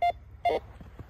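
A Pioneer metal detector sweeping through snow for lost car keys gives two short, clear electronic beeps close up, half a second apart, with faint rustling in between.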